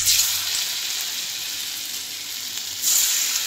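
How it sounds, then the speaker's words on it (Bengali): Diamond-cut pieces of chhana dhoka, a cottage cheese cake, go into hot oil and fry with a bright, continuous sizzle. It swells at the start and again near the end as more pieces drop in. "এখন তেলও গরম হয়ে গেছে, আমি এখন তেলের মধ্যে ছাড়বো।"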